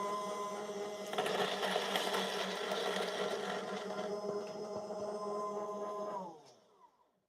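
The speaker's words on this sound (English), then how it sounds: "It's been a while I use this grinder, so just bear with me for a second here" A coffee grinder grinding beans for pour-over coffee, a steady close motor whine with a gritty crunch that runs evenly for several seconds, then winds down and stops near the end, with no talking.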